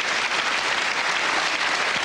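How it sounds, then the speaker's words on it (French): Studio audience applause on a French television game show, a dense, steady wash of many hands clapping throughout, loud and close, with no voices standing out. "je vous demande d'applaudir comme il le mérite, c'est-à-dire très fort"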